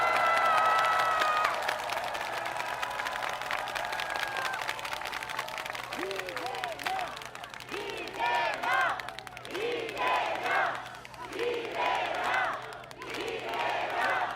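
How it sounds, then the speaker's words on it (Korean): A crowd at an outdoor political campaign rally near a subway station claps and cheers in a dense, sustained wash of applause, with shouted voices rising and falling through it. "서로 격려, 응원의 박수 한번 나누시기 바랍니다."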